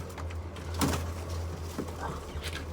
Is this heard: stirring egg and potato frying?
no